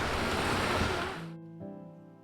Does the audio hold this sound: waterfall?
yes